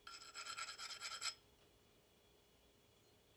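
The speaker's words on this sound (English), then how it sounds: "I got this 4-way rasp thing, which works pretty well" A four-way rasp files the edges of a hatchet eye in quick rhythmic strokes, about eight close rasping passes, then quiet.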